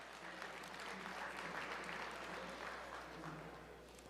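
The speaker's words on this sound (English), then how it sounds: "Give yourselves a round of applause." Audience at a winter convening breaking into a round of applause, a broad, steady wash of clapping from a sizable crowd over a low hum, lasting several seconds.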